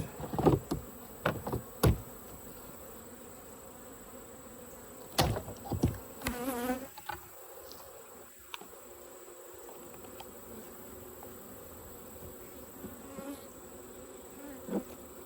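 Honeybees in a hive hum in a steady low drone close by, punctuated by several sharp knocks and taps of equipment against the wooden hive boxes.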